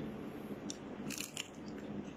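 One close, crisp crunch as someone bites into fried dried squid (daing na pusit), followed by brief crackling chews in a quiet room.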